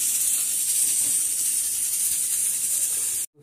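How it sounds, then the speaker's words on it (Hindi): Pressure cooker hissing steadily while jackfruit cooks in a village kitchen, a continuous loud steam hiss with faint rattling, cutting off abruptly at the end. "कटहर सीझने दिए हैं दोस्तों, मुच्ची जल्दी सीझ जाता है इसीलिए कुकर में दे देते हैं"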